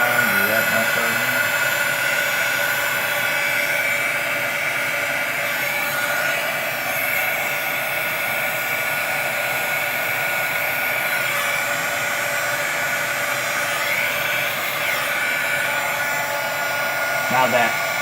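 A heat gun blows a continuous, steady whoosh while shrinking heat shrink tubing onto wire, running close and loud throughout with someone talking over it at times.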